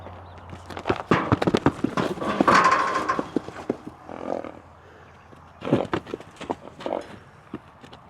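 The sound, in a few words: horse hooves stepping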